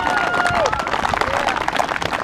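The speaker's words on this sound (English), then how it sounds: "I think we all need to give the boys a round of applause" Outdoor crowd at a junior rugby final applauds the players, a short burst of clapping mixed with cheering and voices.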